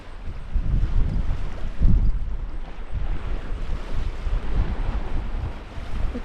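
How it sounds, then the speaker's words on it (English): Wind blows hard across the red-soil Atlantic shore at Argyle Shores, a continuous loud gusting roar buffeting the microphone, with surf and water beneath it. "you know there's a bit of wind, and there is a bit of wind."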